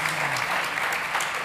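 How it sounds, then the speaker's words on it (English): Audience applause fills a startup pitch stage at a summit, a steady dense clapping that stays loud and even throughout with no gaps. "Big applause."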